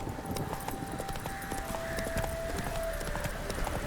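Quick, steady hoofbeats of Roach running in The Witcher 3, a continuous clip-clop over a bed of game music and ambience, with no talking.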